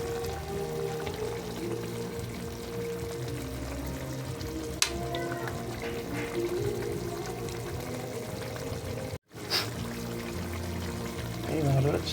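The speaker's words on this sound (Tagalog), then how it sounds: "Paluto-lutoy lang din natin ating sibuyas mga lods." Chopped onions frying in a pan for a simple home-cooked fish steak dish, giving a steady, dense sizzle throughout with a brief dropout near the end and faint voices in the background.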